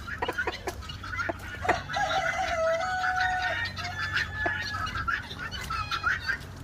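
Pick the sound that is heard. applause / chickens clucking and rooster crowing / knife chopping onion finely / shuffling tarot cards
chickens clucking and rooster crowing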